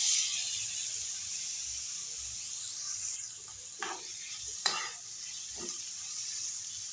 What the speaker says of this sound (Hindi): हमने पैन में 1 टेबलस्पून ऑयल डाला है और अब हम डालेंगे ये चिकन